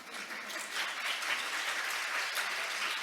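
An audience at an international conference applauds with dense, sustained clapping that swells slightly and holds for a few seconds, heard from a distance with no voices on top.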